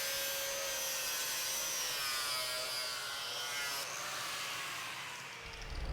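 Steady abrasive scrubbing as surface oxide is cleaned off the back of a welded plate left unpurged, a continuous close rasping texture with shifting whine that stops near the end.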